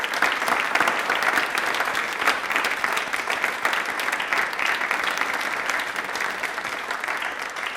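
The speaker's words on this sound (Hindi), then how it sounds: "एक बार तालियां जोरों से बजा दीजिए इसके लिए।" Studio audience applauding loudly and continuously on a televised quiz show, a dense, even patter of many hands clapping with no break.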